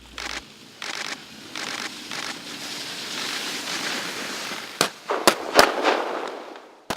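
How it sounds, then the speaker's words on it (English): Special forces soldiers on winter training fire at targets while skiing down snowy mountains. Three sharp, loud cracks come in quick succession over a steady rushing background. "The soldiers show off their abilities by firing at the target with stunning accuracy as they race downhill."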